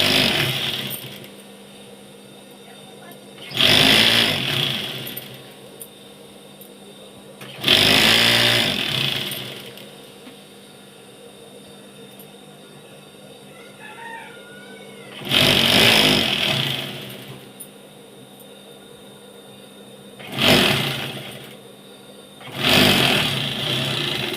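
A sewing machine runs in several separate bursts of a few seconds each while stitching the hem of a nightie. Each burst is a loud, close mechanical whir, and there are short pauses between them.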